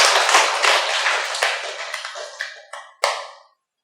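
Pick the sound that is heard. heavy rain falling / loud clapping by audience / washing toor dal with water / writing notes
loud clapping by audience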